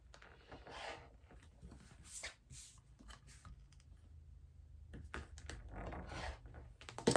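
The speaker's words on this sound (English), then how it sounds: "with my rotary blade, I'm going to cut my long edges here" Soft rasping and scraping of a rotary cutter blade drawn through fabric, in several short uneven passes, close and fairly quiet.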